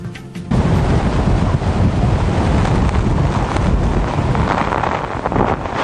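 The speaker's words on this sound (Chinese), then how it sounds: "差一点连人带车被大风给吹走" Strong typhoon wind batters the microphone on a stormy coast, producing a loud, continuous roaring buffet that holds steady from start to finish with no voices.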